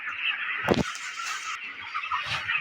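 Broiler chickens about 26 days old in a poultry farm shed, a dense, constant chorus of cheeping and clucking from many birds with one sharper louder call rising briefly above it.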